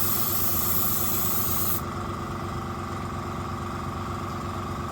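An airbrush spraying blue paint onto a model railway backdrop, a close, steady hiss over the low rhythmic chug of a running compressor; the hiss cuts off partway through, leaving the compressor idling alone.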